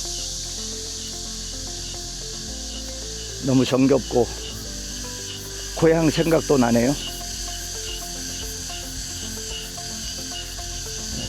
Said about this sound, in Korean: 이 매미 소리가 많이 들리네요